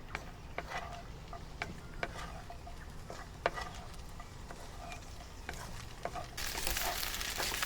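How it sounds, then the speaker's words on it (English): Quiet sizzling with scattered ticks and pops as rice for BBQ pork fried rice is stir-fried in a wok over rising heat; the hiss swells louder near the end. "you will start to hear the sizzling sound and the rice grain will start popping"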